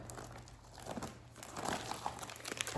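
Paper crinkling and rustling near a stitcher working with 40 count linen, a quiet indoor handling sound that grows denser and louder toward the end, with no talk.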